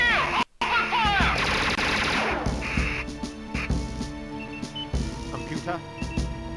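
Gunfire rings out in the DOS space shooter Novastorm, with rapid bursts and impacts mixed with game effects and electronic music, while dramatic voices speak over the action.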